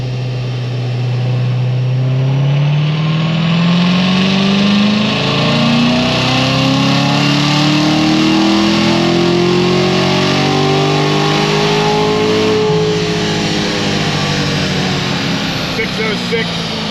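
A Corvette C7 Z06 engine roars loudly through a cold dyno pull, its pitch rising steadily and holding near redline before easing off, with a continuous whine layered over the heavy exhaust drone.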